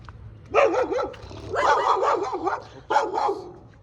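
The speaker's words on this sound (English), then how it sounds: "oops, the dogs are not happy." Dogs barking in several bursts, yapping and excited, fairly close, with short pauses between volleys, in Shimla.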